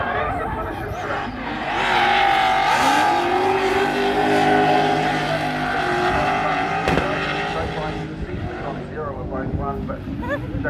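A drift car driven by Jase Brown at Manfeild raceday, June 2022, roars at high revs at big angle, engine note rising and falling with tyre squeal, while an announcer commentates over a distant crowd.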